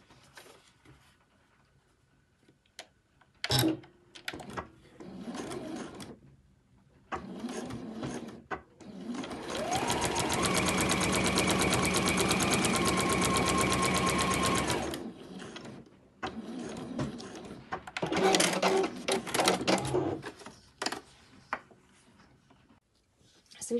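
A sewing machine stitches a bag lining, with a steady mechanical whirring run of several seconds framed by shorter bursts, handling noises and someone talking between stitches.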